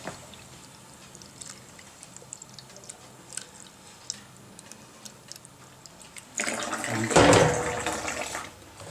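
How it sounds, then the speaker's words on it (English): Cold water pours briefly from a tap into a pot near the end, a short splashing rush after several seconds of quiet kitchen clinks and ticks. "So what I do is I add some cold water."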